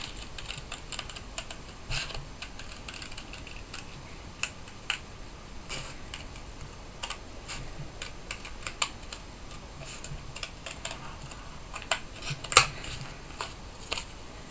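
Ordinary scissors snip through thick card for handmade card making, giving sparse, quiet clicking cuts at an uneven pace with a sharper snip near the end.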